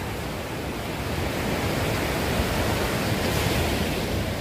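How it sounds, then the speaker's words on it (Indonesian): Big-swell season ocean waves roar at Holtekamp beach in Jayapura, Papua, a loud, continuous broadband wash that swells slightly and carries no speech. "di depan kita itu lautan yang bergemuruh. Lagi musim ombak, ya, musim ombak besar."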